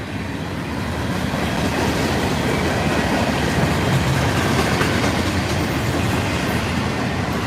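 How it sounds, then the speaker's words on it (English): An FEC freight train passes steadily at close range in Stuart, Florida, its locomotive freshly repainted in Hurricane livery, with loud continuous rumble and clickety-clack of wheels on rail; no distinct horn blast stands out. "Beautiful horn on him."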